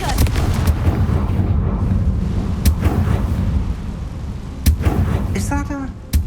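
Confringo blasting spell in the video game Hogwarts Legacy, a loud rumbling burst with crackling blasts and sharp cracks, a voice calling out over the din near the end.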